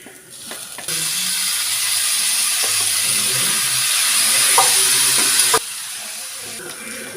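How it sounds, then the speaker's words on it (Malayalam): Cooked beef hits a hot pan for Kerala toddy-shop style beef fry, setting off a loud, steady sizzle and steam hiss that holds for several seconds before cutting back to a quieter crackle. "ഇനി നമുക്ക് വേവിച്ച് വെച്ച് ബീഫ് ഇട്ട് കൊടുക്കാം."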